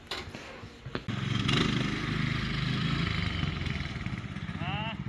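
A go-kart's small engine revs and runs steadily nearby, a rough buzzing drone that follows a few clicks and knocks, with brief voices over it.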